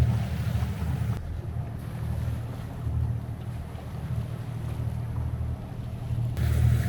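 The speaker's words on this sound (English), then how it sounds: "Sails up, a little bit of breeze." A sailboat moves under sail in a light breeze on the open sea off Italy, with water washing along the hull and soft wind noise over the microphone, steady and calm with no talk.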